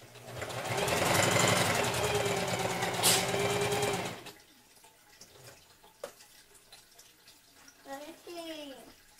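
A sewing machine stitches a Hmong stripe sleeve in a loud, steady whirring run for about four seconds, then stops. Quieter handling noises and some voices follow.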